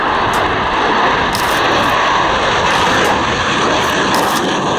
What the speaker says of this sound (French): Le Mirage 2000/5 est un avion de combat monomoteur,